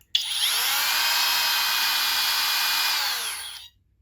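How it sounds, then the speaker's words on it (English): A Flex router motor winds down after switch-off, its loud high whine holding steady, then gradually dropping in pitch and fading to silence after about three and a half seconds. "So there is a bit of a wind down with the flex."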